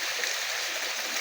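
Water flowing steadily in a stream near a waterfall, a continuous broadband rush and trickle heard alone without voices.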